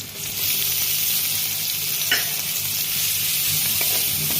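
Chopped onions with green chilli and turmeric powder frying in a pan, a steady close sizzle with faint stirring scrapes and no talk.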